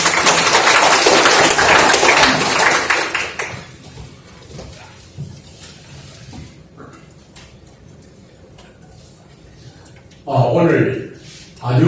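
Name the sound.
audience applause welcoming a speaker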